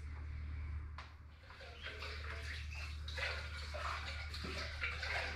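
Running water splashes over items being washed before boiling, a soft continuous trickle and spatter under a low steady hum.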